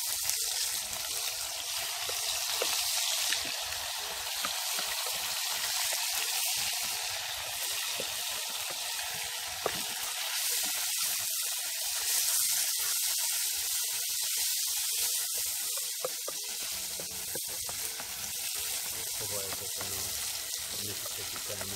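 Conch dropping into a hot pot for a coconut-milk stew sets off a steady, broad sizzle that lasts throughout, loud and close, with no pause.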